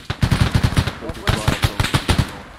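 Bursts of automatic rifle fire in a Vietnam War setting in Arma 3 rattle loud and close, fast shots grouped in volleys with a short pause partway through.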